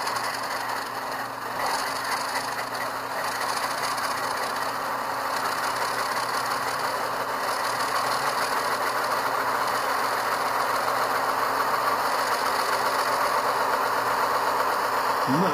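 A model diesel locomotive's onboard sound decoder, Atlas Classic Burlington Northern, throttling up: a steady rumbling engine drone with mechanical clatter, continuous and fairly loud, no voices.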